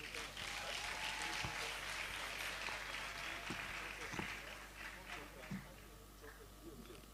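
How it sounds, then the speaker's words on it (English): At a pharmacy graduating students' induction ceremony, a large audience gives sustained, dense applause that holds steady and then gradually tapers off, sounding somewhat distant and hall-like. "Another big round of applause for our registrar."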